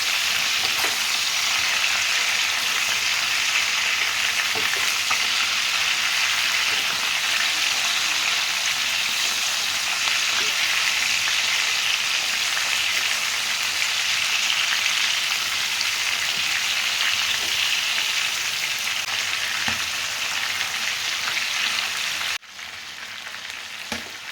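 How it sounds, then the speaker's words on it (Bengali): Chicken pieces shallow-frying in a pan, a loud, dense and even sizzle of hot oil that holds steady throughout, with a few faint pops and no speech, then drops slightly near the end. "চিকেনগুলো ভেজে নেব হালকা করে ভেজে নেবো"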